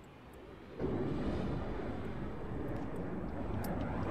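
A-10 aircraft engine in the video game Arma 3: a steady, loud jet roar that kicks in abruptly after a quieter start and then holds, with a few faint clicks on top.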